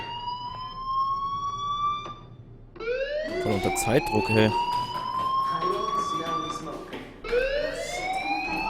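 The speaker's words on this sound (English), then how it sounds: "do you hear that fire alarm? That means you should be outside." A fire alarm rings in the video game Life is Strange, its loud, steady electronic tones rising and repeating, with a brief pause before it resumes, while a person talks over it.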